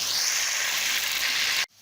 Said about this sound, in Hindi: अभी मैं उसके अंदर एक अदद प्याज काटा हुआ ऐड कर दूँगा और इसको मैं फ्राई कर लूँगा